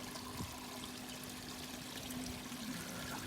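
Water trickling from a koi pond waterfall, a steady soft pouring and dribbling that runs continuously at moderate level with no voices.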